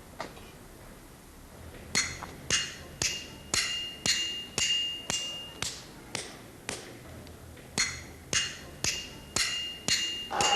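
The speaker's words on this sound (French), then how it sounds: "En Aveyron résonne le bruit des quilles et des boules qui s'entrechoquent." Wooden skittles and balls clattering in Aveyron eight-pin bowling, a steady run of about fifteen sharp, loud knocks spaced roughly half a second apart, each a bright clack with a short ring.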